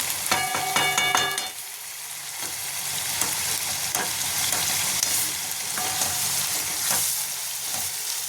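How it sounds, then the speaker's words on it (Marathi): Steady sizzling of spices in hot oil for a bitter gourd dish with scraping stirs and a few metallic clinks, close and continuous with no talking. "तेल तापायला ठेवले चला तर आता फोडणी देऊया"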